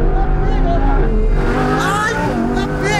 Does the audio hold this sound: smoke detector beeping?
no